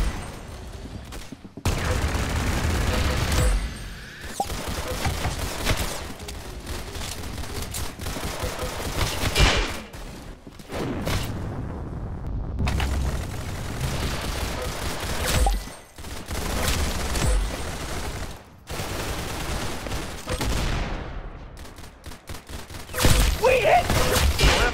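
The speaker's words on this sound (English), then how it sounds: "That's some beautiful shooting right there." Rapid bursts of gunfire in the Roblox game Arsenal, loud continuous automatic fire broken by brief pauses, with heavy impacts and occasional booms throughout.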